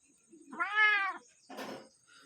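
A village cat gives one clear, drawn-out meow up close, followed by a short rustling or huffing noise.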